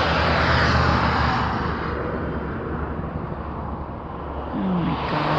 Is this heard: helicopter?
yes